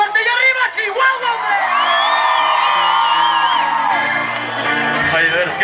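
A concert crowd at the Feria Santa Rita fair in Chihuahua, Mexico, roars with loud sustained shouts, whoops and cheers from many voices, with a piercing whistle rising over the dense continuous din.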